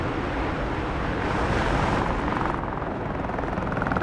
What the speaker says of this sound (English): Got a helicopter flying by.